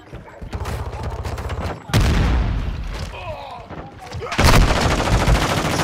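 Loud automatic gunfire bursts in the video game Call of Duty: Modern Warfare II, coming in sustained volleys with a brief gap, close and heavy, mixed with battlefield noise and voices.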